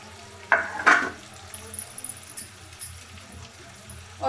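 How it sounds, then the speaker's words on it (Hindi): A spoon scrapes and stirs mashed boiled potatoes into samosa filling in a pan, opening with two sharp clanks against the metal followed by softer, irregular scraping and faint sizzling. "और इसमें मैं अब डाल रही हूँ आलू मैश करे हुए जो मैंने उबले हुए"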